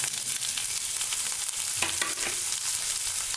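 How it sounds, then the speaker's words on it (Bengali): Pointed gourd pieces drop into potatoes already frying golden in oil, a steady sizzle that flares with a brief splash and crackle midway, followed by stirring sounds. "এখন আমি এর মধ্যে দিয়ে দিচ্ছি আমাদের কেটে রাখা পটলগুলো।"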